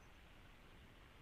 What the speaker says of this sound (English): it's kind of ironic that I'm coughing on a COVID-19 webinar